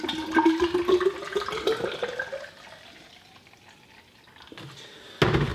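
Water is poured into a container for a homemade IPA panel wipe, a close gurgling stream with a rising pitch as the vessel fills, then it tails off to quiet before a short clatter at the end.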